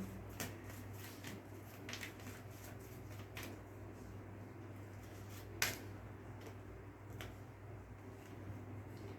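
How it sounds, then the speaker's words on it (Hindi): Tarot cards being shuffled by hand, a series of crisp riffling snaps and soft slides spaced unevenly, close and quiet over a low steady hum. "Okay, let me shuffle again."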